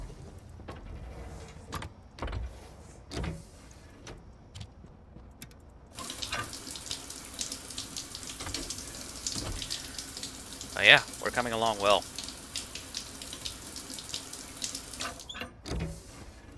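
Running water from a shower in the Stationeers video game, a steady hiss that starts abruptly and continues for about ten seconds, with someone speaking briefly and some clanks and a squeak mixed in.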